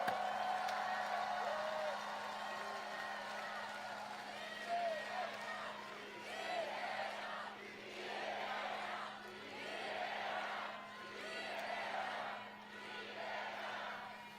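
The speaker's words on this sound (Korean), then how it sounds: "격려의 박수, 축하의 박수 부탁드립니다" A crowd at a Lee Jae-myung presidential campaign rally in Namyangju, South Korea, in 2025 cheers and shouts in repeated swelling waves over a steady electrical hum, with voices mixed into the din.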